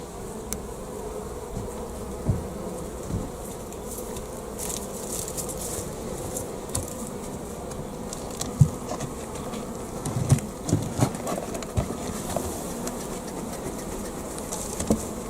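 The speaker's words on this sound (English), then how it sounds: "And you can hear the bees buzzing about there." Bees buzz continuously around a hive, a dense steady hum with individual insects droning close by now and then.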